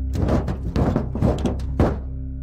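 A heavy thud on a roof in a horror story, followed by a series of dull knocking thumps like heavy footsteps overhead, loud and close, ending in a final strong thump and fading quiet.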